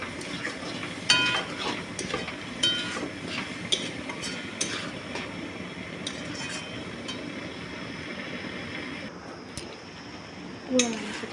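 Goat meat is stir-fried in a pot over a low flame, with soft scraping and metallic clinks of a spoon against the pot recurring amid a steady sizzle, under a speaking voice.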